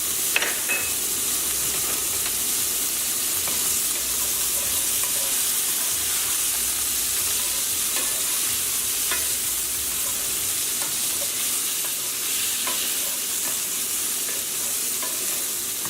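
Turkey meatballs being stirred in a pan with hot sauce and butter, continuous sizzling and wet scraping of the spoon, close and steady throughout, with no talking.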